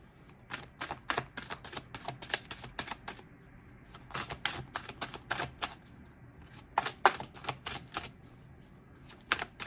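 Rapid crisp card clicks and riffling snaps as a tarot deck is shuffled and a card pulled, a close, quiet series of sharp taps in irregular bursts.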